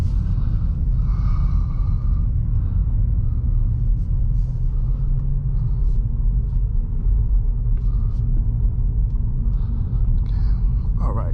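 A 2023 Acura Integra being driven around, heard from inside the cabin as a loud, steady low road and engine rumble that holds unbroken for the whole stretch.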